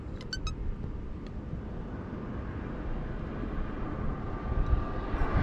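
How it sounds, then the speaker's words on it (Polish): A distant airplane taxiing at an airport drones steadily at low volume, a continuous rumbling hum that grows a little louder toward the end. "Samolot tutaj znowu już kołuje na lotnisko."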